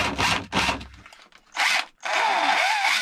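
DeWalt drill powered by converted Worx batteries: several short, close bursts of motor whine, two quick triggers, a pause, then a longer run.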